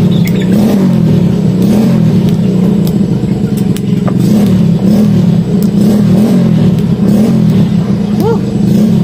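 An engine revs and drones loudly close by, rising and falling in pitch, with steady road rumble throughout.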